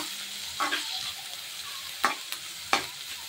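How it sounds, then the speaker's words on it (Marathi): Curry leaves fry in a little oil for vegetable oats while a spoon stirs the pan, giving a soft background sizzle broken by three or four sharp scraping strokes, no one speaking. "थोडा वेळ फ्राय करून घेते"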